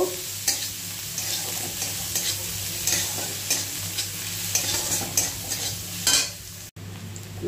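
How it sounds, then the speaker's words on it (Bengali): One large chopped onion fries in a pan until lightly reddened, giving a continuous close sizzle broken by regular scraping stirs of a spoon. "একটু এটা হালকা লাল করে ভেজে নেব।"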